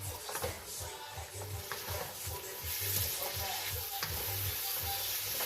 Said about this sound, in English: I'm just going to stir fry this.